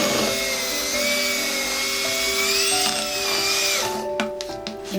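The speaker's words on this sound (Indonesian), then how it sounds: "dan mixer lagi sehingga semua akan tercampur dengan rata dan menjadi lembut" An electric hand mixer whirs loudly through sponge cake batter made in one bowl for pandan, vanilla and chocolate cakes, its pitch wavering as it churns, then stopping near the end with a few knocks against the bowl.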